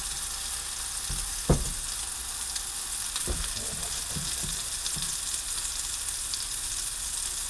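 Wedding soup meatballs frying gently in a pan over lowered heat, a steady soft sizzle with a sharp clatter near the start and several light knocks of stirring through the middle.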